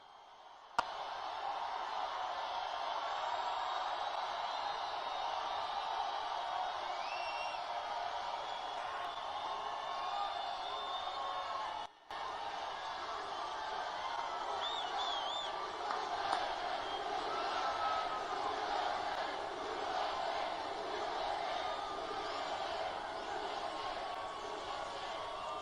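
A large political rally crowd in Fort Lauderdale, Florida roars and cheers continuously for around twenty-five seconds, a faint, distant wash of voices with scattered shouts and whistles.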